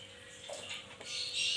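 Melted ghee is poured over layered Sindhi biryani in a pot, a soft, faint splashy trickle lasting a moment in a quiet kitchen.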